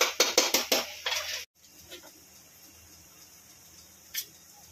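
Cooked pasta is served from a pan onto a plate, making a quick run of soft clinks and scrapes of a utensil against cookware, then a faint quiet with one more light tap near the end.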